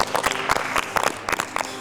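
An audience claps steadily and fairly loudly for a young contestant on a children's game show, with dense, uneven clapping throughout.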